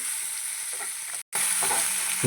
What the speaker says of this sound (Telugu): ఒక ఉల్లిపాయ ఒక టమాటా కూడా వేస్తున్నాను చక్కగా దీన్ని వేయించేసుకొని